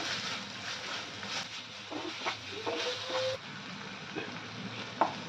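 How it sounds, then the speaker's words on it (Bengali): Chopped onion, tomato, ginger and garlic sizzle with salt in hot oil for a pomfret fish dish, a steady close frying hiss with brief stirring scrapes and a spoon clink near the end, no talking. "টমেটোটা তাড়াতাড়ি গলবে আর পেঁয়াজ টমেটো আদা রসুন ভালো করে ফ্রাইও হয়ে যাবে নুনটা দিলে"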